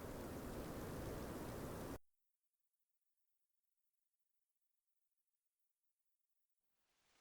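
Steady, dense rain hiss in the video game Final Fantasy XI, loud and even for about two seconds, then cut to silence before faintly returning at the very end.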